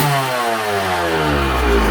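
A motorcycle engine started ice cold revs hard and continuously up through rising pitch, loud and close, with no talking over it.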